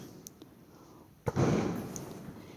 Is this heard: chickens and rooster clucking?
no